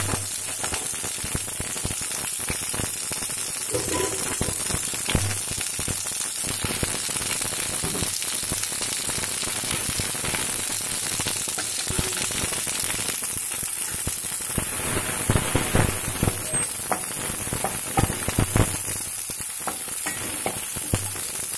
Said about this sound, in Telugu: ఆనియన్ ఒక వన్ మినిట్ వేయించినాం